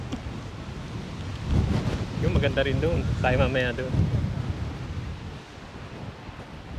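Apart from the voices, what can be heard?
strong wind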